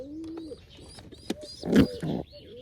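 Pigeons kept for sale coo nearby in a few low rolling calls, followed by louder scuffling and knocking noises from the birds moving about.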